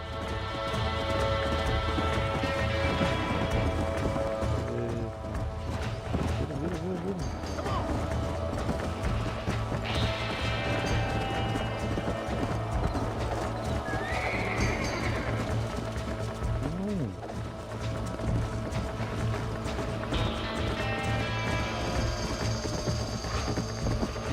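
A horse galloping in Red Dead Redemption, with rapid hoofbeats and neighs over a dense, loud game soundscape of music and ambience throughout.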